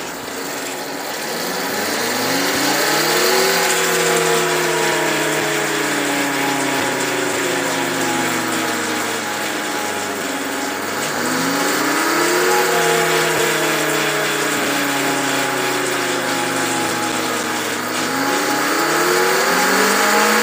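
A Kawasaki KXe electric motorcycle runs on a dynamometer, its motor giving a loud, steady whine that rises and falls in repeated sweeps as it speeds up and slows, with chain noise throughout and no talk.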